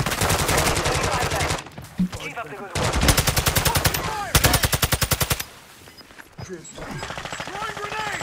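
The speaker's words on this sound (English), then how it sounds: "I'm being shot at." Heavy automatic gunfire in a Warzone 2.0 fight comes in loud sustained bursts with short pauses between them, and a player talks over parts of the exchange.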